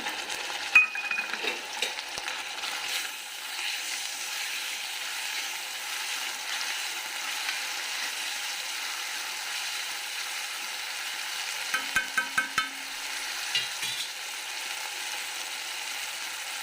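Tomatoes sauté in a pan for Saurashtra-style green olo, a soft continuous sizzle with a few brief clicks and scrapes partway through.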